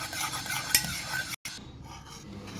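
A cup of yogurt is stirred and whisked in a bowl for Mysore bonda batter, giving faint scraping and swishing strokes with a small clink near the start and a brief gap midway.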